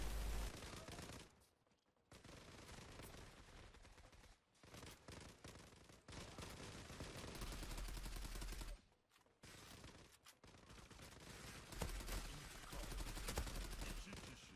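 AK-47 gunfire in a video game, bursts of rapid automatic shots in long volleys separated by brief pauses, loud and continuous.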